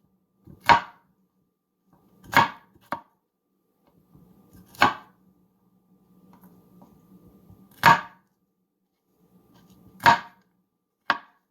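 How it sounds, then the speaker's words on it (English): A knife mincing pasta ingredients on a cutting board: sharp, close chopping strokes come singly or in quick pairs at irregular intervals, with quieter scraping and shuffling between them and no talking. "And continue to mince."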